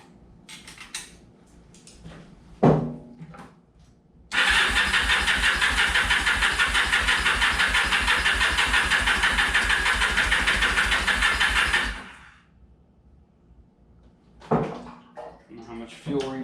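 A classic motorcycle engine cranks and catches, then runs loud and steady at a fast even beat for about eight seconds before cutting off, with people talking before and after.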